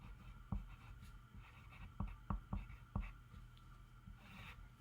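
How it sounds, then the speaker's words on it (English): Pencil or marker writing on paper during a children's sentence-writing lesson, a few short scratchy strokes and taps up close, quiet and alone with no talking. "So, I'm going to write that down."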